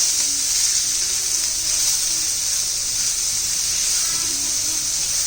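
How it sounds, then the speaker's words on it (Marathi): Cabbage, capsicum and onion stir-fried in a hot pan with garlic for manchow soup, giving a steady, loud, continuous sizzle and hiss with no talking. "आता त्यात पहिला कोबी शिमला मिरची आणि कांदा हे तुम्ही चांगलं परतून घेऊ"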